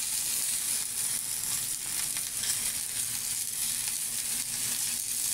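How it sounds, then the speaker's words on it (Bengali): Tilapia wrapped in banana leaf fries in a pan, the leaf charring, with a steady, dense sizzle and crackle of hot oil that holds evenly throughout with no voices. "ঠিক এরকম পোড়া পোড়া করেই ভাজতে হবে।"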